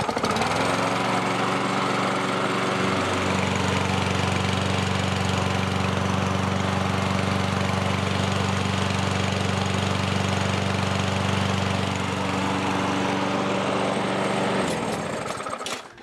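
A Kohler XT6 mower engine with a small oil leak catches and settles into a steady, loud, continuous drone, with a slight shift in pitch a few seconds in and the engine cutting off at the very end.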